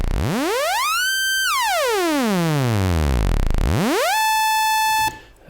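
Raw sawtooth output from an Instruo Cs-L synthesizer module: a bright, buzzy tone rich in harmonics that sweeps up, glides slowly down to a low growl, then climbs back and holds a steady high pitch before cutting off.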